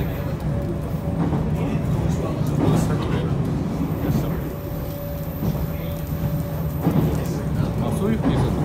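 Inside the Fruitia sightseeing train while it runs, a steady low rumble of wheels and carriage noise fills the scene, with passengers chatting over it throughout.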